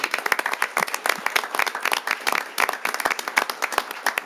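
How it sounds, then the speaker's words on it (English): A city council meeting audience gives award recipients a round of applause, a lively burst of many sharp, close handclaps at an even pace that keeps going throughout. "So one more huge round of applause for all of them."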